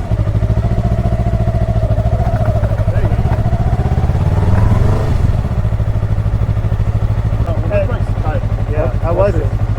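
A Yamaha R3 motorcycle starting and settling into a loud, steady idle with a brief throttle blip midway, close by, while people talk over it.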